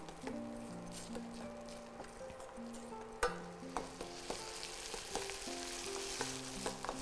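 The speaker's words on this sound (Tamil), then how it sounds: "இந்த எண்ணெயில் நல்லா இது கொஞ்சம் வதங்கட்டும்" Vegetables sauté in hot oil in a pan, a soft continuous sizzle with scattered stirring clicks beneath melodic background music.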